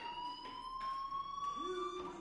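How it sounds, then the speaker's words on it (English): A fire alarm rings in the video game Life is Strange as a steady, high electronic tone with faint pulsing. A brief voice-like sound enters near the end. "do you hear that fire alarm? That means you should be outside."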